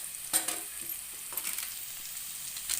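A wooden spatula stirs spiced tilapia fish curry with turmeric, coriander powder, red chilli and village-style masala in a pan, giving soft scraping strokes over a steady, close oil sizzle.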